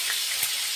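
Liver sizzles in a very hot pan, Alexandrian style, a brief, steady bright hiss of frying with a small pop partway through.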